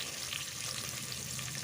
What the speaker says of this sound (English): So now that snake goud is frying